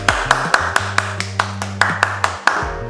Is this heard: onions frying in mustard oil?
no